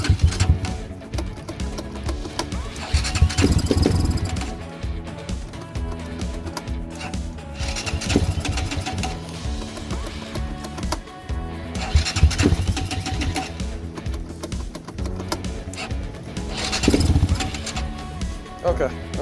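A Lifan KP Mini 300 motorcycle with a swapped ZS175FMN four-valve engine runs with its fuel shut off to empty the carburetor. The engine idles close by and revs up repeatedly in swelling bursts, with someone talking over it at times.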